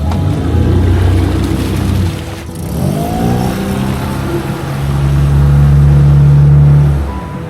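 A dinghy's outboard motor runs on the water during a field test, a loud, close engine drone that dips briefly and then revs up into a steady, strong hum.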